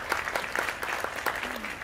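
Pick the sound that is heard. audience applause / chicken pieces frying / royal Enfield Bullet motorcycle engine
audience applause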